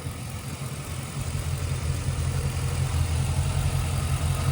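An LS2 V8 idles in a 1985 Chevrolet C10 Silverado show truck, a steady, loud, low rumble that holds even and smooth throughout with no revving.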